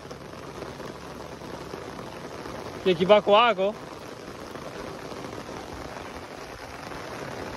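Rain falls steadily in a tea garden in Tinsukia, a soft, even hiss of drops on leaves and surfaces, broken briefly by a few spoken words in the middle.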